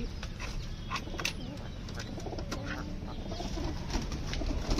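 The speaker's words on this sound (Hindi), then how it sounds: "अपने कबूतर बाहर आए हैं और दाना वगैरह छीटा हुआ है, तो वो खा रहे हैं" Pigeons freed from their coop peck at scattered grain, soft cooing and rustling over a low steady background, with occasional brief chirps and wing movement, fairly faint throughout.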